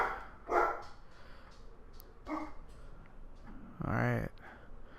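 Dogs in Minecraft bark a few times at scattered moments. The barks are moderately loud, with a stronger one near the end, and they sit against a low game background while someone talks.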